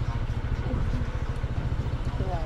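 Motorcycle riding up a mountain road through a village in the Philippines, a steady low engine drone running continuously at close range with wind rush, no voices.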